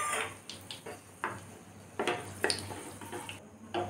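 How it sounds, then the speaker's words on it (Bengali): Two dried red chillies crackle in hot oil as they temper in a pan for tomato chicken, a faint sizzle broken by soft clinks and scrapes of a utensil against the pan, with no voices. "তেলটা আমার গরম হয়ে গেছে, এতে আমি 2টো শুকনো লঙ্কা ফোড়নে দিলাম"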